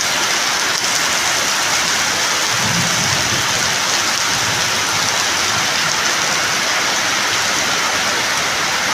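Heavy rain pours down in a dense, unbroken hiss close by, with a low rumble of thunder rolling faintly underneath partway through.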